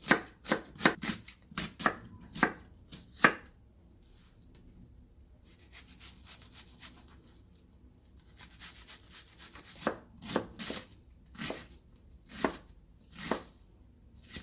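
Knife chopping onion and cheongyang chili peppers on a cutting board, quick bursts of close, crisp taps with a quieter scraping stretch in the middle, no talking.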